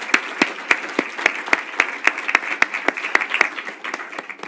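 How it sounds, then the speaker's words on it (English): Audience members at a medical education talks and panel event clap for the presenters, loud and close, with distinct individual claps standing out over a thinner background of applause. "a round of applause for our presenters"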